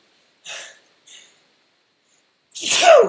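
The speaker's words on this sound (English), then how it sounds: "sneezing." Two quick, soft inhales are followed by a single loud, sharp sneeze close to the listener.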